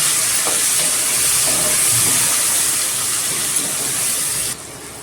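Tomatoes sauté in a pressure cooker, giving a steady loud hiss and sizzle throughout that drops abruptly near the end.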